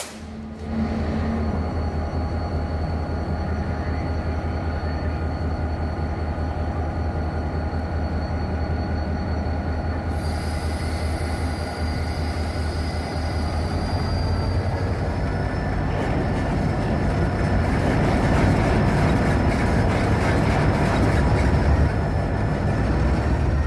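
A full-size prototype locomotive runs on rails with a loud, sustained rumble and rolling wheel noise, holding steady throughout and growing slightly rougher and brighter toward the end.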